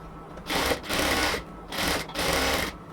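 A sewing machine stitches along the elastic at the waist of a salwar in three short bursts of rapid needle clatter, each a fraction of a second to under a second long, separated by brief quiet pauses.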